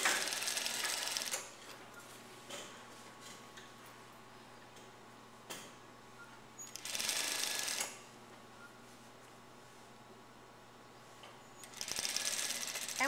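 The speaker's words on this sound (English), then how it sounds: "We're going to be sewing the back princess seam, and then the front princess seam" A sewing machine stitching the princess seams of a blouse: three separate short bursts of rapid mechanical whirring, each lasting about a second, with quiet room tone and faint ticking between them, heard close with no talk.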